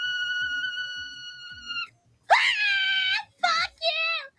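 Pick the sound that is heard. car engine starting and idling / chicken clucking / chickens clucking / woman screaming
woman screaming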